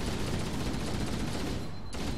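Continuous dense gunfire roars in Halo 1, a thick, loud barrage of shots during a shotgun fight that barely pauses before cutting off near the end.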